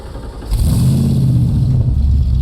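A 1965 Shelby Cobra replica's engine catches after a brief pause and settles into a loud, steady, deep rumble close by, with no voices over it.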